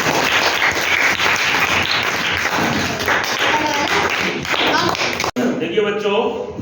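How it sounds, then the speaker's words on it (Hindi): Children in a maths classroom clap together in a dense, lively round of applause that continues for several seconds and then stops abruptly, with voices mixed into the clapping. "तालियां बजाओ।"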